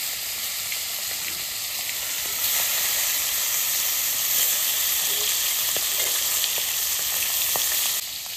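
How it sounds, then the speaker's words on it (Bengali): Fish from the Sundarbans frying in a hot wok sizzle loudly and steadily, the hiss swelling a little partway through and staying strong to the end. "আমার কড়াই গরম হয়ে গেছে, এবার মাছটা আমি ছেড়ে দেবো"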